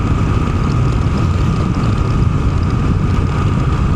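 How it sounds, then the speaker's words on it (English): Steady broadband wind roar buffets a rider's helmet on a Triumph Scrambler 1200 XE fitted with a dark-tint Unit Garage windscreen, continuous and loud with low rumble throughout, no speech. "I am already hearing, this is a little strange, a little bit of a wind noise in my helmet."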